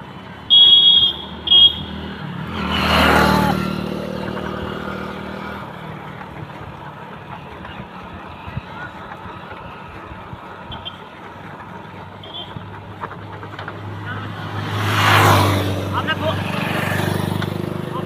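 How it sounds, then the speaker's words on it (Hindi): Road traffic beside a petrol pump: two vehicles swell past, one early and one late, after a couple of short beeps at the start, with a steady engine rumble and a person talking over it. "बहुत ज़्यादा ट्रैफिक भी है यहाँ पर"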